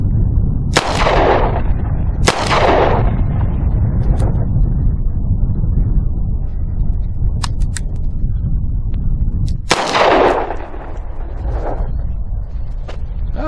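Three loud, sharp gunshots from a Charter Arms Bulldog .44 Special revolver fired outdoors at a 7-yard target, two close together early and one after a long pause, with steady wind and background rumble between.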